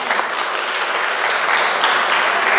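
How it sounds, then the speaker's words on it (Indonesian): An audience at an academic ceremony applauds for the professors. The clapping is loud, dense and steady, with no pause, and no one speaks. "Tepuk tangan untuk para guru besar."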